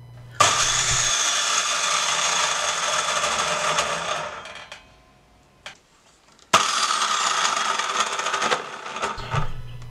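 A GMC MS190 mitre saw with freshly replaced bearings runs in two loud bursts, whining and droning for about four seconds, spinning down to near quiet, then starting again and running steadily to the end; no talk.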